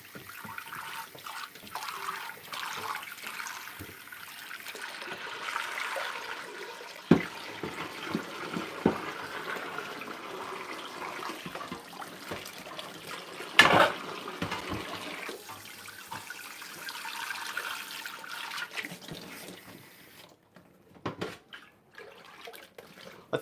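Water drains slowly out of a blocked sink in a home kitchen, with a soft, continuous trickling and gurgling that rises and falls over a long stretch, plus a few sharper knocks and splashes, close by and with no talk.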